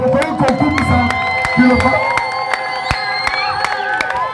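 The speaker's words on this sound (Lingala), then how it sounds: "Est-ce que tu peux acclamer pour la parole?" Crowd at an outdoor evangelism campaign in Bolobo cheering and acclaiming, a sustained mass of voices with whoops and shouts, steady and fairly loud throughout.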